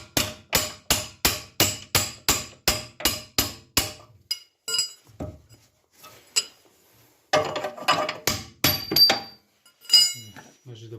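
Hammer striking a bolt on an Audi 100 Quattro during suspension work, a rapid series of about a dozen sharp metallic taps at a steady rhythm, then scattered irregular knocks and clinks with brief talk between them.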